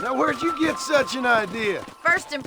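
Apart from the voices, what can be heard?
No everyday noises stand out.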